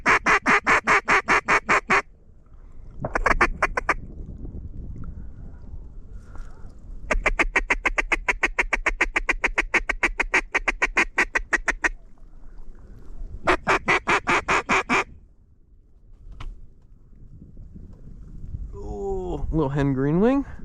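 Mallard ducks quack loudly and close on a tiny island during a kayak duck hunt, in long rapid bursts of repeated calls separated by short pauses, with a whistling wing-like call near the end.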